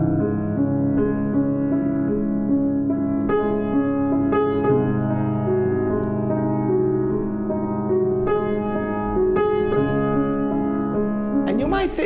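A piano plays the first movement of Beethoven's Moonlight Sonata at an overly slow tempo, sustained low chords and broken-chord figures ringing steadily for the whole stretch, close and clear with no talking.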